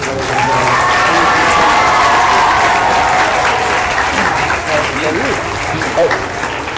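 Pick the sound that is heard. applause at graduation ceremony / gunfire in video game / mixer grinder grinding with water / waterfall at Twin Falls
applause at graduation ceremony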